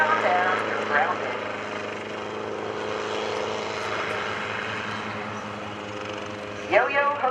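Otto the Helicopter, a small remote-controlled helicopter at the 2012 NAS Oceana airshow, whirring steadily as it comes down to land, with an announcer talking over the engine drone and brief crowd noise near the end.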